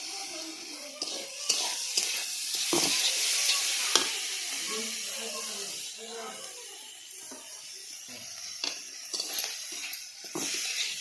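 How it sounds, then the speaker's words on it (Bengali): Tomatoes and garlic paste sizzle in a pan with a steady hiss, broken by repeated scraping stirs and sharp utensil knocks, close and fairly loud with no speech over it. "টমেটোগুলো ভাজা হয়ে গেল"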